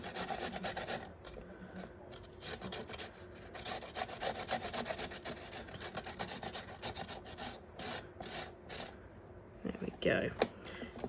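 A carrot is rasped steadily against a box grater for carrot cake, a close, continuous rhythmic scraping with short pauses, and a voice briefly speaks near the end.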